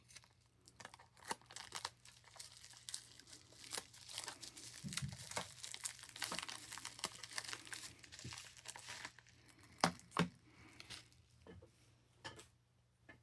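Sticky tape is peeled and torn while a shipping package is opened, with quiet crinkling and ripping bursts and a few sharp snaps, close and soft.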